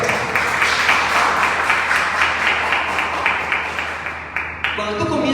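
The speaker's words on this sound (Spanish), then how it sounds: "Un aplauso para nuestro Dios." Church congregation applauding during a Spanish-language sermon, rhythmic clapping in quick regular bursts that fades out and ends abruptly near the close, with a preacher's voice heard.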